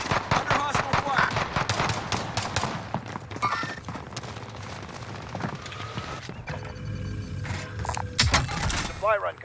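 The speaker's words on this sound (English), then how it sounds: "Under hostile fire." Gunfire in the video game Call of Duty: Warzone: rapid bursts of automatic shots crackle in dense volleys through the first half, then thin out to scattered loud shots, with game voice chatter mixed underneath.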